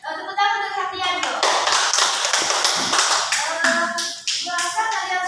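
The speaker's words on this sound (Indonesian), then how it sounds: "Oke, tepuk tangan untuk Hatianto" Students clap in a classroom during a microteaching lesson, a dense burst of applause mixed with children's voices and chatter that continues around it.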